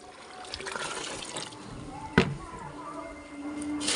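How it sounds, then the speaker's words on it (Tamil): Water is poured from a pot into a plant pot outdoors, giving a splashy, gurgling fill with a sharp slosh midway, and a voice talks quietly over it. "தண்ணி பிடிச்சி ஏப்பா குத்து சட்டியில் ஊற்றுறேன்"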